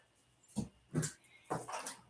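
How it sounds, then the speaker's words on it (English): A dog at home barks at the neighbours, giving three or four short, fairly faint barks spaced about half a second apart, with no talking. "I think my dog's barking at the neighbors"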